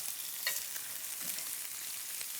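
Steady, dense sizzle of meat searing in a cast iron skillet, browning a crust on the outside, a continuous close hiss with faint stirring and shifting noises and no voices.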